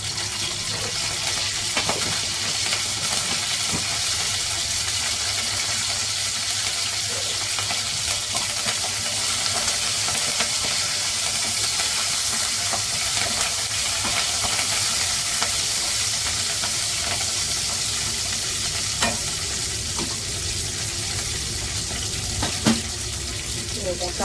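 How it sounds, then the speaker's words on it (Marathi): Mustard seeds frying in hot oil for a fresh peanut amti, a loud, dense, continuous sizzle and crackle with stirring and occasional sharp pops throughout. "हे बघा तेल ठेवले तापत त्याच्यात आपण राई टाकूया"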